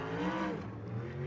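A USAC sprint car engine roars around Kokomo Speedway, a loud, continuous harmonic drone that dips briefly as the throttle lifts.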